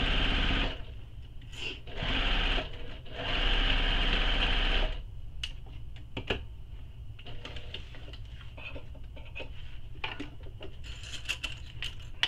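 A sewing machine stitches along the side of a handbag, running in loud bursts with short pauses, then continuing more quietly with light clicks and taps.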